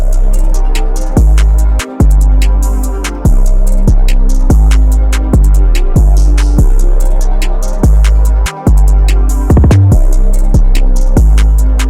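A deep 808 bass line thumps in a steady looping pattern, one note sliding in pitch near the end, loud with crisp hi-hat ticks over it.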